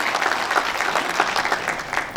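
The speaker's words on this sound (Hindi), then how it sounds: "तो एक बार इनके हौसला अफजाई के लिए भी तालियां" Dense applause from a conference audience in Gwalior, steady and fairly loud throughout, with no voices over it.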